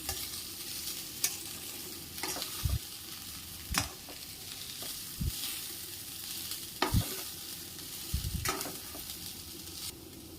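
Fresh turmeric roasts in ghee in a pan, a low steady sizzle punctuated by sharp, irregular clicks and scrapes of stirring.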